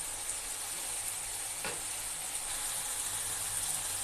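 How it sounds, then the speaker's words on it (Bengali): Spice paste sautéing in oil for a prawn curry, a soft continuous sizzle at low level with one brief scrape or stir in the middle and no voices. "এভাবে আমি মশলাগুলো কষিয়ে নেব। মশলার থেকে যতক্ষণ না তেল ছেড়ে দিচ্ছে ততক্ষণ আমি কষাইতেই থাকবো।"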